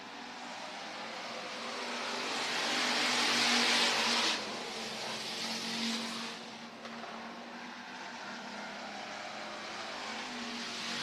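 Bomber and hobby stock cars race around the dirt oval at Worthington Speedway, a dense wash of roaring engines that swells as the pack passes and then settles into a steady distant drone.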